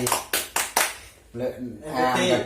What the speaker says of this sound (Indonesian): dari tadi dia tepuk tangan